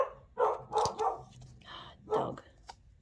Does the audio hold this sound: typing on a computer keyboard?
no